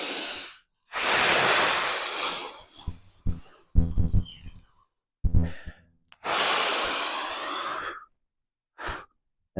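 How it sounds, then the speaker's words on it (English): Deep, forceful breaths out and in, close and loud. Long whooshing exhales alternate with shorter sniffs and gasps, with silent pauses between them. "Go ahead and breathe out."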